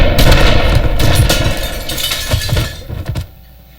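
Gunfire sound effect in an audio drama, a loud burst of repeated shots with breaking glass, crashing continuously for about three seconds before cutting off into quiet.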